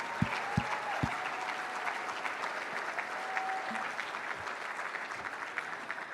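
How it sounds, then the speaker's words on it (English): Audience at an Arch Grants entrepreneurship gala applauds the staff team, a dense, steady wash of many hands clapping throughout, fairly distant and even in loudness, with no speech over it. "Yes, please, big round of applause"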